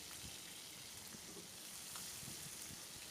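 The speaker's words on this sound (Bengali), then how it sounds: "মাছগুলো এখন আমি ভেজে নিব একটু বেশি করে ভালো করে ভেজে" Fish frying in a pan of hot oil, a steady dense sizzle with soft crackles and occasional stirring, close and continuous with no voices.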